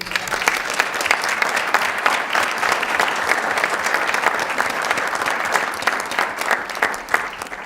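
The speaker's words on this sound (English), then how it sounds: "And again, just another round of applause." Officers and guests at a Carroll County Crisis Intervention Team meeting give a sustained round of applause, a steady, fairly close roar of many hands clapping with a few sharper claps standing out.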